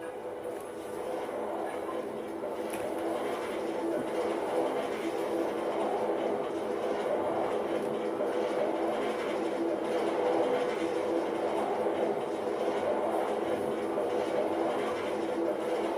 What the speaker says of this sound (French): On monte dans les wagons. Et on va refaire le tour.